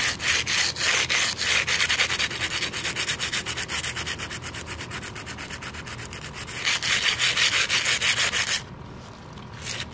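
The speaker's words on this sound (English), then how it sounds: "the sandpaper is 60 grit" Wood sanded by hand with coarse 60 grit sandpaper, a loud, steady run of rapid back-and-forth scratchy strokes that goes on almost without a break and eases off near the end.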